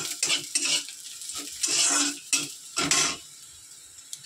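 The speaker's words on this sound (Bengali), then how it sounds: "তো আমি আজকে একটু ভেজে নিলাম সামান্য একটু তেল দিয়ে।" Green chillies and garlic fry in a little oil in a pan, with sizzling bursts and scraping stirs of a utensil against the pan.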